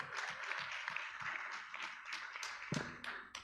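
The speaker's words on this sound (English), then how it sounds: "Please give them a big round of applause one more time" Scattered, light clapping from a summit audience, a thinner patter of hands with a few louder claps, heard at modest level.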